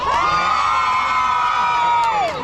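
A crowd of Pro-Duterte supporters at a Saturday rally shouts and cheers loudly in a loudness contest, one sustained roar of massed voices with whoops, lasting about two seconds before tapering.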